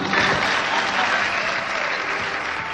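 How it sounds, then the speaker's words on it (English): An audience breaks into steady, full applause, many hands clapping together at a constant level throughout. "Okay, you can clap now."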